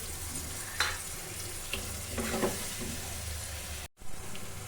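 Paneer with green chillies sizzling after a splash of water hits the hot pan, a steady hissing fry with a few stirring scrapes and a brief dropout near the end, no voices.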